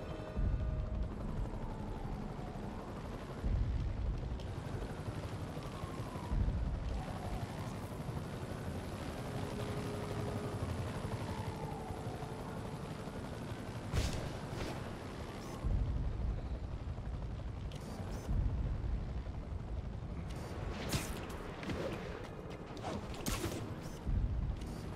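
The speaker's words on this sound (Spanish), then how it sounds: "vamos a intentar con el helicóptero" A helicopter in the Spider-Man video game gives a steady rotor and engine roar that fills the whole stretch, with bursts of impacts and whooshing game effects on top and no talking.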